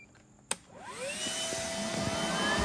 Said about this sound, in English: we're gonna get the motors started